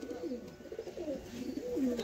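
Pigeons coo close by in a steady run of low, rolling, throaty calls that overlap and waver, with no talking.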